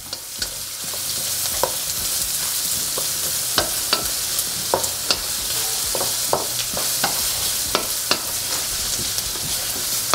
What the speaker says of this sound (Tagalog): Lulutuin lang natin to onion maigi hanggang sa mag-caramelize na siya para mas masarap yung ating sisig.